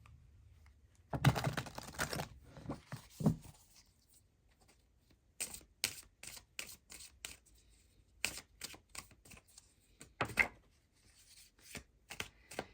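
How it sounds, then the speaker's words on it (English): Close, quiet bursts of tarot cards being shuffled and riffled, coming in short irregular clusters separated by silence. "let's give these cards another shuffle"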